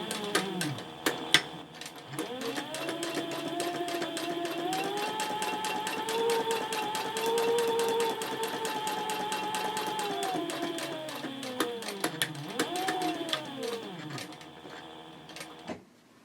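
A sewing machine stitches a row on a handbag, a close, even mechanical whir of rapid needle strokes that starts after a few clicks, runs about ten seconds, then winds down and stops.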